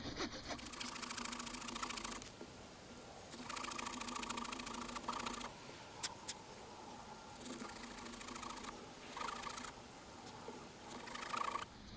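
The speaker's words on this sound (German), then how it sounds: "dann kann ich da super sägen." A hand saw cuts into a piece of wood held in a bushcraft sawing jig, making a steady rasping back-and-forth scrape in repeated bursts with brief pauses between strokes, fairly quiet and with no voices.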